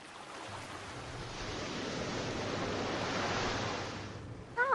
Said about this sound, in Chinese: 只见前面的海域海浪不断起伏， 发出巨大的声响。